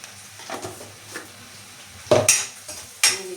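Turmeric tipped into a pan of sizzling oil and cumin, with a utensil stirring and scraping against the pan in several sharp bursts over a soft continuous fry, close up and with no voices.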